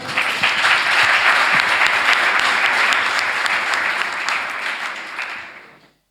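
A conference audience at a session on dehesa land gives a full, loud round of applause that holds steady for several seconds before tapering off and fading out.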